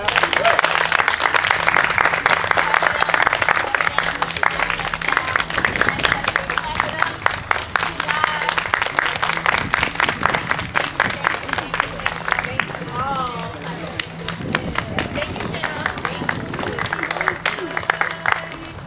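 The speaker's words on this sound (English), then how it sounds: "Clap it up, clap it up." Applause and clapping from a crowd at a poetry cypher session, loud and sustained throughout, with crowd murmur and voices mixed in alongside a low steady hum.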